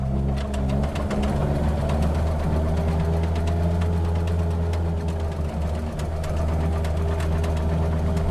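A Renault 4L engine struggling in deep mud makes a bad noise. It is a steady, droning mechanical hum with a fast rattling knock running through it, continuous and close.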